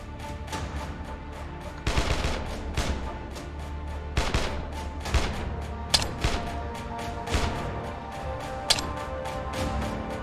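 Rapid bursts of gunfire in the State of Decay video game, a Sasquatch-hunting zombie survival shooter, come as sharp repeated shots of varying loudness over a steady, busy game background, with no talking.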